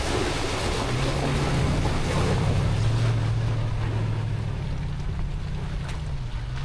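A truck on a Smoky Mountains overland trail rolls through a shallow water crossing, with a steady engine drone under rushing, sloshing water and wind buffeting that fade slightly toward the end.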